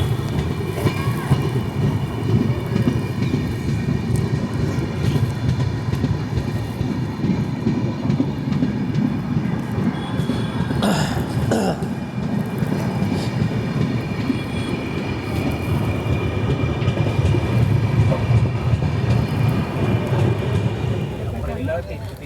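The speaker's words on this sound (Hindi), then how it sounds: "अभी हमारी ट्रेन पहुंचने जा रही है सरहिंद जंक्शन" Sachkhand SF Express passenger train running on rails on the approach to Sirhind Junction, a steady loud rumble and clatter of wheels heard from inside the coach, with a brief metallic burst midway.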